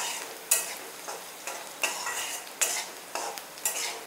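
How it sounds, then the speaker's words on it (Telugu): Onions sauté in a pan for mushroom curry as a utensil scrapes and clinks against the metal in regular close strokes over a soft sizzle. "ఉల్లిపాయలు అయితే మగ్గుతున్నాయి."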